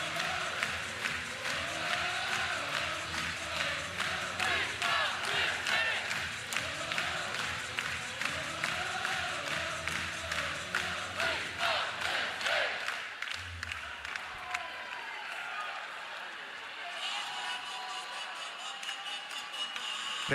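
A big arena crowd at a Creighton versus Penn State college volleyball semifinal keeps up a loud, steady roar with rhythmic clapping that carries on and thins slightly near the end.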